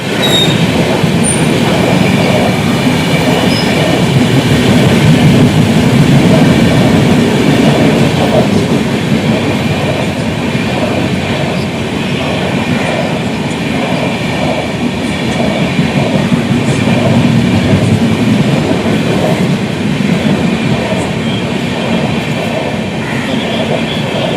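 A train rumbles past at close range through a closed railway level crossing, wheels clattering steadily and loudly for the whole stretch, with faint squeals over the roar.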